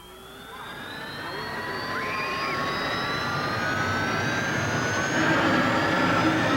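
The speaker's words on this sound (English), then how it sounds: "the world's only gold-plated jet dragster" A gold-plated jet dragster engine runs at a drag strip with a loud, steady jet roar and a rising whine that builds over several seconds, broad rushing noise filling the space.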